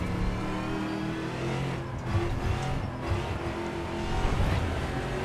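A Dallara IR-18 open-wheel race car engine in the Assetto Corsa racing game, a loud continuous high-revving whine with shifts and surges in pitch and no voices.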